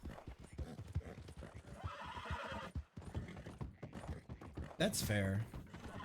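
Horse in a video game, with clopping hooves and a sharp whinny near the end, heard under someone talking and chatting over the game.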